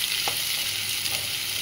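Onions and green chillies fry for mutton kima curry, a steady, dense sizzle with a light stir partway through, close and alone.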